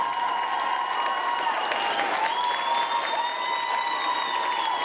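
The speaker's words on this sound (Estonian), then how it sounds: "nii et veel kord kõva aplaus talle!" An audience at a youth talent show applauds steadily and loudly, a dense continuous wash of clapping with a little cheering mixed in, heard without talking.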